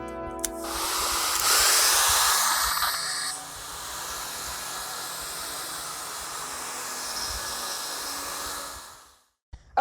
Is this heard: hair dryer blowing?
yes